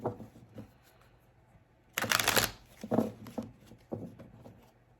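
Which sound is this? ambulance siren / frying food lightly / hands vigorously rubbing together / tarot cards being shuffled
tarot cards being shuffled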